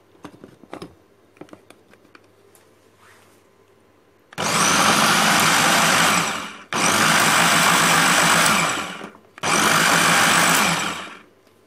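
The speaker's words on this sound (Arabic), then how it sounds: "بنضرب عادي بقى اي مكسر كده عندكم خلاط" An electric blender blending pear roars in three loud bursts of several seconds each, separated by brief pauses, after some faint clatter and handling sounds.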